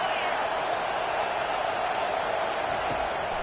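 Constant crowd roar fills a stadium in an American football video game, a dense, even wash of noise that stays steady throughout.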